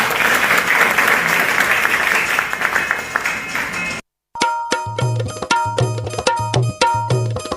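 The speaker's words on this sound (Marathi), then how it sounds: "टाळ्या वाजवायला हरकत नाही का?" An audience claps steadily through the first half, a dense even patter, then after a brief silence a song with regular drum beats takes over.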